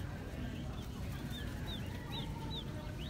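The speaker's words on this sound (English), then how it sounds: "So they got some little chickies right there." Baby chicks in a farm supply store brooder, giving repeated thin high peeps over a steady low hum of store background noise, faint and somewhat distant.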